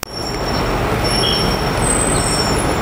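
A New York subway station fills with steady, loud rail rumble from a train, with high metallic squeal tones running above it throughout and no voices.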